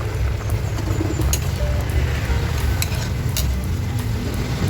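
A pot of chicken tinola soup with chayote simmers on the stove, giving a steady close low bubbling and hiss with faint scattered clinks on top.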